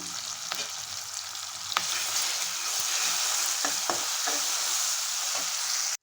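Onion, tomato and ginger-garlic-coriander paste frying in oil for a cauliflower fry, a steady hiss of sizzling with a few sharp scrapes and taps of a spoon against the pan, close up and with no talking.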